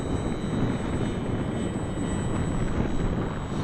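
An Arrows RC Husky 1800mm STOL model airplane on 4S power makes a slow pass with full flaps on a windy day, giving a steady close electric motor and propeller drone over wind noise.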